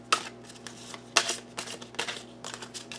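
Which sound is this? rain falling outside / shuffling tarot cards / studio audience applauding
shuffling tarot cards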